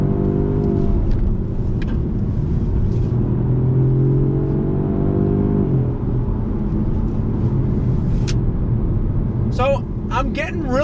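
A 2020 Jaguar XE R-Dynamic sport sedan heard from the cabin on a twisty road, its engine drone climbing as the throttle opens, dipping midway, then steadying. Brief sibilant sounds come in near the end.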